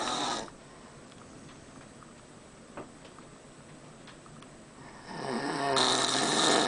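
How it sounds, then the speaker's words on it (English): A father snoring, with loud rasping breaths at the start and again near the end, separated by a long, quieter stretch; close by, with no talking. "He snores like crazy."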